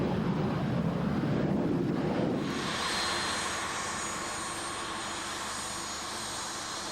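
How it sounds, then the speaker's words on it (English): A small private plane arrives after a short flight from Clearwater; a loud rumbling engine roar swells in the first few seconds, then gives way to a steady, lighter whooshing drone with wind noise and no voices. "Nigel arrives in his plane after a short flight from his home in Clearwater."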